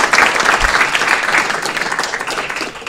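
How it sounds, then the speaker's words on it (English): Applause at a city council meeting, a room of people clapping loudly and steadily at close range, with a faint voice underneath and the clapping easing off toward the end. "Big round of applause for Sean"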